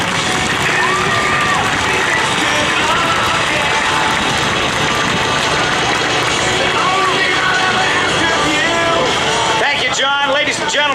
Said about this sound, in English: Please show them your support again with a round of applause to our returning veterans